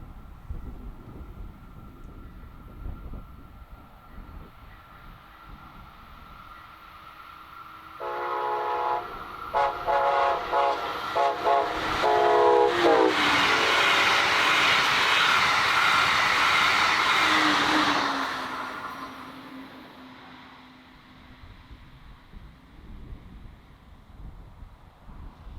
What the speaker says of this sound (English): We'll start with the train wrapped for NYU Langone Health, also known as Bright Purple